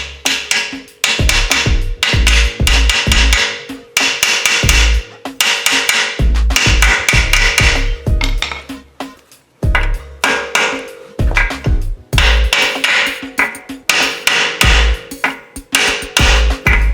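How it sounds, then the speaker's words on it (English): A hammer is driven onto the outside lip of a suspension bushing during a Jeep Cherokee XJ 3-link suspension install. Loud, sharp metallic blows land in quick bursts of several strikes, separated by short pauses. "you want to make sure you hammer on the outside lip"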